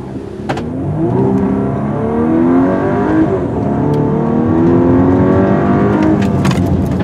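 A 2024 VW Atlas turbo four-cylinder SUV accelerates hard nearby, its exhaust note climbing in pitch through a couple of gear pulls with an odd, droning tone.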